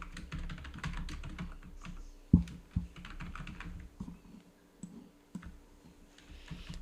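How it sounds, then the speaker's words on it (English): Quick, irregular clatter of computer keyboard keys as text is typed, close and fairly quiet, with a few sharper key hits and short pauses between bursts. "So I type some text here."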